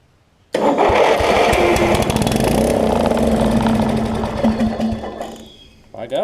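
A Lowe's riding lawn mower with a fault in its ignition catches after a short quiet lead-in, then runs loud and close with a steady, buzzy small-engine drone that fades near the end as the engine cuts out.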